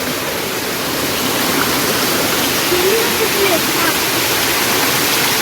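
Water rushes and gushes steadily over rocks, a loud continuous roar close by with a faint voice briefly audible underneath.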